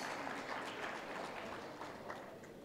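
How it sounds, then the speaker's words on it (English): A large audience applauds a panelist at the IndianOil Gas Conclave plenary session, a dense, steady wash of clapping lasting the whole stretch, fairly distant and even, with no speech over it. "A huge round of applause for Sri Krishnan,"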